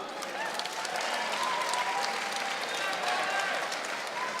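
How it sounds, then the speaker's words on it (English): Crowd applause for both fighters after an MMA bout in a cage at ROC 5, a steady wash of clapping and cheering heard at moderate distance throughout. "Ladies and gentlemen, round of applause for both fighters."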